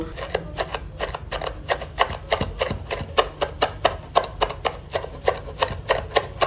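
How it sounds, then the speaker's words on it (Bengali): A knife chops steadily on a board, mincing shrimp with vegetables such as onion for a dumpling filling, in quick even strokes that sound close and crisp. "সবগুলো চিংড়ি মাছের সাথে ভালো করে চপ করে নেবেন"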